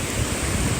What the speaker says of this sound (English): You can hear the waves in the background